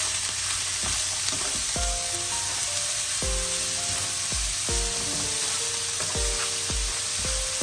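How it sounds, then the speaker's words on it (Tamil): Beetroot stir-fry with chana dal frying in a pan, a loud, constant close sizzle with repeated knocks and scrapes of a spoon stirring through it, no voices. "இனிமேல் இது எல்லாம் சேர்ற மாதிரி நாங்கள் கலந்து விடுவோம்."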